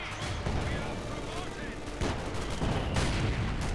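MG42 machine gun fire in a Company of Heroes 2 match, dense bursts and explosions from the battle in near continuous layers, with a caster talking over the combat.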